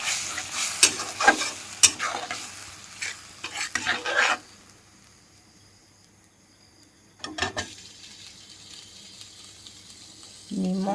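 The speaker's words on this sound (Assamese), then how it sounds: "এতিয়া লৰাই দিম।" A tomato is stirred into fish curry frying in a pan, with scraping stir strokes and a soft sizzle in uneven bursts, a quiet pause, then a brief second round of stirring.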